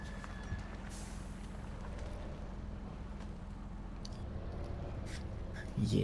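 K700 tractor engine in Spintires: MudRunner, a steady low droning rumble held throughout at moderate level, with a louder surge near the end.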